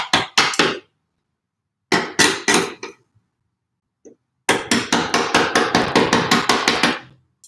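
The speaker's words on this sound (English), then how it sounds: "Sorry for the construction noise again." Construction hammering nearby: bursts of sharp, rapid repeated blows in quick rhythmic runs separated by pauses, loud and alone, with a long steady series of strikes near the end.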